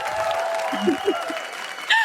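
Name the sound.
audience applause welcoming a guest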